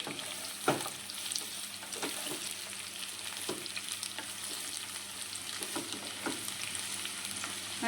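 Potatoes and capsicum frying in a pan give a steady close sizzle, with occasional clinks and scrapes from stirring and no voices.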